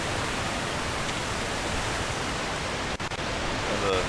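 Waterfalls in the video game Conan Exiles make a dense, even roar of rushing water, broad and constant from start to finish, with only a brief dip near the end and no talking.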